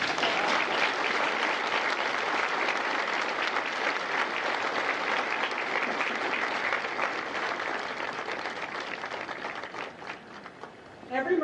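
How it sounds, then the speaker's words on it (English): Applause from the crowd at a Marine Corps recruit graduation for India Company at MCRD San Diego, a broad, steady wash of clapping that fades slightly near the end before a short burst returns. "Please join me in a round of applause to acknowledge the officers, drill instructors, and families of India Company."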